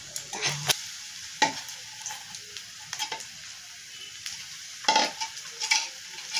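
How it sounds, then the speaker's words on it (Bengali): Fish fries in a pan of oil at home, a soft continuous sizzle punctuated by a handful of sharp clinks and scrapes of a spatula against the metal, fairly quiet and close. "এই মাঝে মাছের ভাজাটা করছি ছেলের জন্য"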